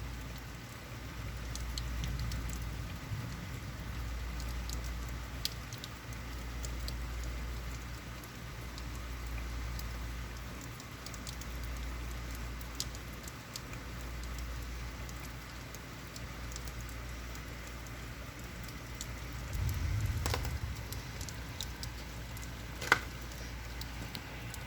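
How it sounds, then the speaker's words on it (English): Steady rain falls through a storm, a constant close patter with a few sharper drip ticks and no voices. "I was trying to keep quiet for a bit so everybody could enjoy the sounds of the rain"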